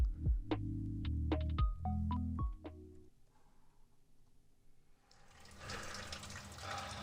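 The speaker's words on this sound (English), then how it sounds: "You just caught me having my daily cold shower." Cold shower water running: bursts of noise at first, a quieter lull, then a steady broadband spray of water rising again near the end, fairly close.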